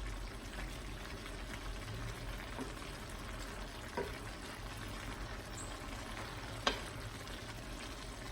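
Vegetables for pepper steak sizzling and being tossed in a pot, a soft continuous frying hiss broken by a few faint clacks and scrapes, with no voices.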